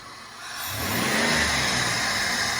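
A 1999 Grand Voyager minivan engine with a cold air intake starts low, then revs up and holds a steady, throaty roar nearby for a couple of seconds, with no voices.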